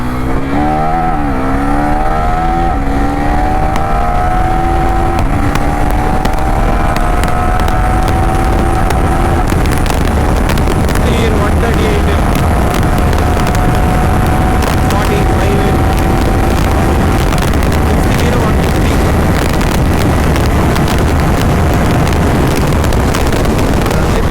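A Husqvarna Svartpilen 401 motorcycle ridden hard at full throttle, its engine note rising through the gears and holding a loud, sustained drone under heavy wind buffeting on the microphone.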